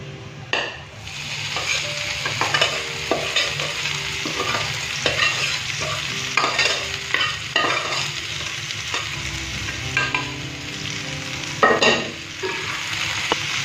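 Mixed leafy greens being stir-fried in a pan, a continuous loud sizzle with repeated scraping and clacking strokes of the spatula at an uneven pace, close up and without talk.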